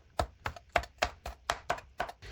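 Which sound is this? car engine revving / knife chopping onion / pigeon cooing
knife chopping onion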